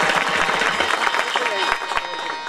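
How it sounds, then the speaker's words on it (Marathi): Audience applause during a kirtan at the Daryadevi temple fair, a dense, loud wash of clapping with voices mixed in. "चांगलं स्वागत करा, टाळ्या वाजवा."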